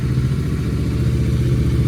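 A Royal Enfield GT 650 twin, fitted with new iridium spark plugs, idles loud and close with a steady low thrumming throb and mechanical clatter, no voices.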